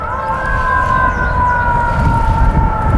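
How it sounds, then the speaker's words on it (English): A wailing emergency vehicle siren, an ambulance or fire truck, sustained and fairly loud, with a steady two-tone whine over low rumbling traffic noise. "an ambulance or fire truck?"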